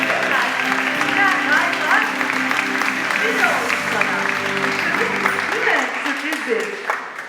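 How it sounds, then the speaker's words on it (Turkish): An audience at a women's film festival awards ceremony applauds in a dense, continuous wash of clapping, with voices and crowd chatter mixed in underneath and rising toward the end. "Alkışlarınızla Binali."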